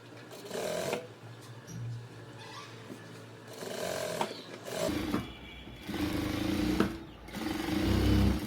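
A sewing machine runs in several bursts while stitching around a blouse neckline, each run a close, whirring mechanical rattle separated by brief pauses as the fabric is repositioned.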